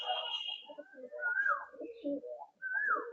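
Pigeons coo repeatedly inside a racing pigeon loft, with soft throaty rolling calls and a few higher whistling notes, close and fairly quiet, alone without talk.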